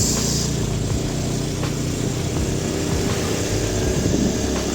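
Motorcycle passing on a street, a steady engine drone under broad traffic rumble, fairly close and continuous throughout, recorded on a Xiaomi 13T phone.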